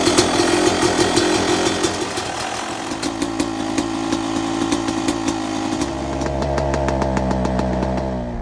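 Yamaha YZ-250 dirt bike engine idling and revving steadily during a heat cycle, a loud, buzzy two-stroke drone with a rhythmic pulse that shifts to a deeper, fuller note near the end.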